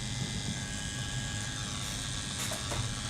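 An Ambition Ninja 4-stroke tattoo machine runs with a continuous close electric buzz, steady and unbroken throughout, with no talking.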